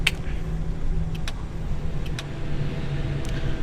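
Airbus A318 engines in a flight simulator game, a steady low hum running throughout with a faint whine and a few light ticks over it, heard alone with no talk.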